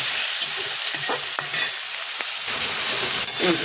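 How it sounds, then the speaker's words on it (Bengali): Paneer, onion and tomato with turmeric and salt stirred in a dry pan, a loud close sizzle with several sharp spatula scrapes against the pan, no voices over it. "এটাকে বেশ করে নাড়বো, সেখানে টমেটোটা সেদ্ধ হয়ে যাবে।"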